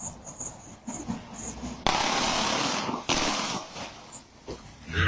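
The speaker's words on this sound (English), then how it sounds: "And that's mad gunshots." A dense, rapid burst of many gunshots blurs into near-continuous crackling, broken by a brief gap, with voices talking around it.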